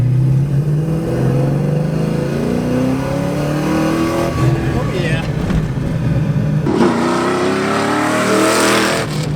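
A Pontiac GTO fitted with an LS engine and a Hurst shifter pulls hard in second gear, its engine note rising steadily in pitch from inside the cabin before a brief break, with a short exclamation from the driver.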